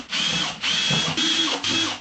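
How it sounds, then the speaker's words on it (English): A power drill whirs in four short bursts, drilling half-inch holes in a plastic truck bed storage system, each running about half a second with brief pauses between, close and loud with no talking. "drill 1/2 inch holes in each tip bowl"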